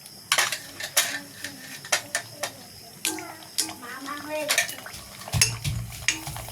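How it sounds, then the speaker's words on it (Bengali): Fuchka shells going into hot oil in a pan, with sharp clinks and scrapes of utensils against metal over a faint sizzle, the knocks irregular and close, and a voice talking briefly. "তো আমি এখন ফুচকাগুলোকে ছেড়ে দিব।"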